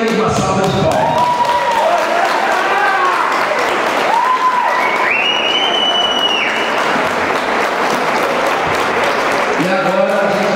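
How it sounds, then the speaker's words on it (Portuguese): Loud applause from the crowd at a Gigantes de Aço fighting event, honoring a fighter who recently lost his mother, steady and dense throughout with cheering voices and shouts mixed in. "recebe primeiro uma salva de palmas"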